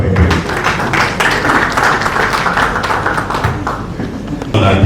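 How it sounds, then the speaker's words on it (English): Audience at the 8th annual Afrikanwatch lecture and awards event in Lagos applauds, a dense, loud, steady clapping that fills the hall for the whole stretch without pause. "Please, a round of applause for him."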